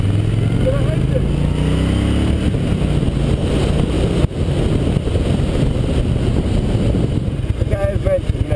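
A Harley Davidson Cross Bones motorcycle rides along ring roads, its engine a steady, loud low rumble with continuous wind and road roar throughout, no talking over it.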